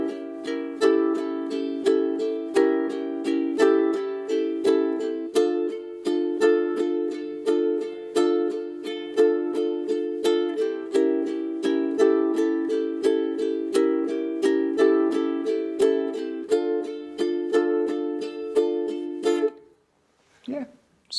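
Ukulele played with a down-up strumming pattern for a song, accenting certain beats and switching between two chords, steady and close for about twenty seconds before stopping, with a brief voice at the end.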